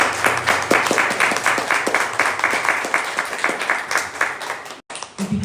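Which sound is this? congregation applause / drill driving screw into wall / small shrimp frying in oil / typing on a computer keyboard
congregation applause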